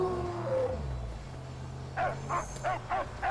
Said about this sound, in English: So the dog points and barks as to where you're going